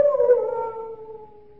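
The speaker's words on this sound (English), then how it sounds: "They keep many dogs, large dogs at the Chateau d'Azay." A large dog kept at the Chateau d'Azay lets out a single long, mournful howl in a 1948 film. The howl slides slowly downward and fades away alone, with no talk over it.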